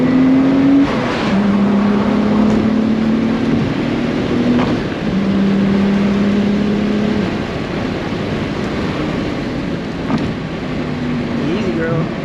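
A Nissan Skyline R32 GTR drives along with a steady engine drone that rises and shifts through gears, heard from inside the car as someone talks over it.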